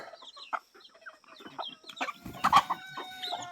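A free-range country rooster clucks in short, irregular bursts close by, with a louder, more agitated squawk about two-thirds of the way through.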